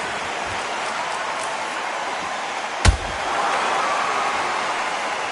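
A boxing video game arena crowd gives off a steady broad hiss of murmur and distant cheering. A single sharp slam-like hit lands midway, and the crowd swells slightly afterward.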